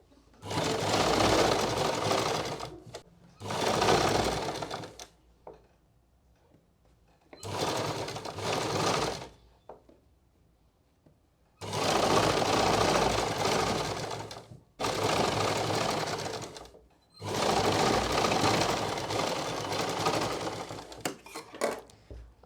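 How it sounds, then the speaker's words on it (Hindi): Sewing machine stitching along the edge of a salwar hem over buckram, running in several long bursts of a few seconds each separated by short pauses, loud and close with no talk. "बुकरम के ऊपर किनारे पे सिलाई लगेगी"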